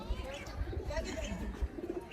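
Pigeons coo softly and low in the background while people talk and shuffle nearby, with occasional dull knocks breaking through.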